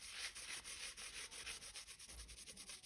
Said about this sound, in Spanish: Voy a comenzar a limpiar este polvito que ya secó.